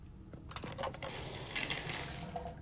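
Water runs and splashes steadily, as if poured from a tap into a basin, to give a horse a drink in a video game; a few brief clinks near the start, then a continuous trickle at moderate level with no talk.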